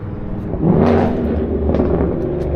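A car engine revving up loudly and close, the roar swelling around the first second and then holding at a steady, throaty level with no talk over it.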